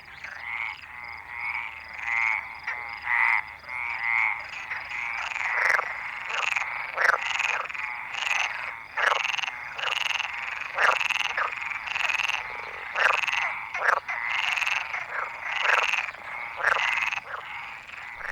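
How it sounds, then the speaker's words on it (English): Dense chorus of common and southern frogs croaking in a loud, continuous overlapping rhythm of rapid pulsed calls at the end of winter in the south, with no voices. "The deafening choruses of common and southern frogs are a chant to the new life that is to come with the end of another winter in the south"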